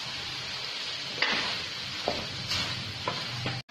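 Flat-bean stir-fry with a handful of grated coconut being stirred in a hot pan: a continuous soft sizzle broken by about four distinct spatula scrapes at a roughly even pace, close and clear.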